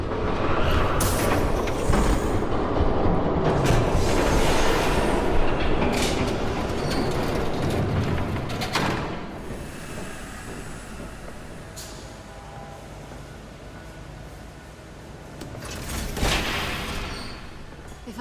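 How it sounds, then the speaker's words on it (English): A train rolling in within a Batman video game, loud rumbling and clattering wheels up front with metallic squeals, then easing into a lower rumble before swelling briefly again near the end. "There's a train coming."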